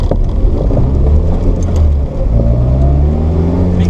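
A classic Mini fitted with a turbocharged Honda VTEC engine cruising in normal mode, giving a loud, steady, close engine drone with a low rumble and a slight rise in pitch.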